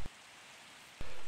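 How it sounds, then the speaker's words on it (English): Steady broadband rain hiss in the video game Minecraft, a soft even patter that drops away briefly before returning, with no talk. "It's raining right now"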